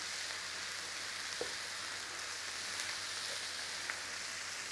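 Quiet steady sizzle of a corned beef filling with caraway seeds and paprika cooking in a pan, a faint even hiss with a few soft taps of stirring.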